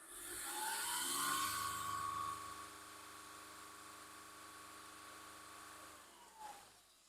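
Volkswagen Polo 1.2 diesel engine revved once, a rising rev that holds at a steady high-pitched whine for several seconds before dropping back, close and moderately loud.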